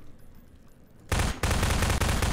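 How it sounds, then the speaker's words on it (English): Sudden loud bursts of gunfire and explosions in the video game Half-Life 2 break in after a quiet second, continuing as dense, rapid, heavy blasts to the end. "Explosions. It's all the explosions."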